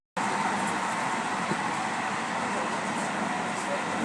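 Steady rumble and broadband hiss from inside a moving train in Morocco, continuous and fairly loud for the whole stretch, with no talk over it.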